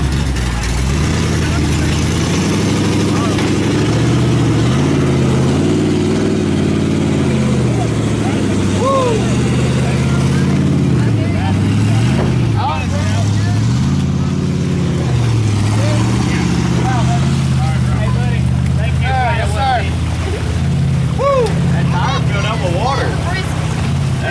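A Honda outboard motor runs on a boat out on the water, a loud continuous engine drone with shifting pitch that stays steady throughout, while people talk over it.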